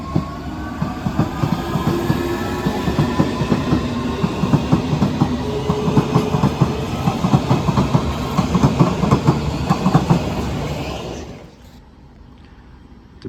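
A C2C Class 357 electric train, unit 357043, departs Barking station bound for London Fenchurch Street with a loud rhythmic clickety-clack of wheels over rail joints and a rising motor whine, then cuts off sharply near the end.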